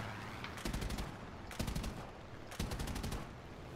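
Aircraft machine guns on an XP-50 plane fire in War Thunder in three short, rapid bursts separated by brief pauses, loud and close over a constant engine drone.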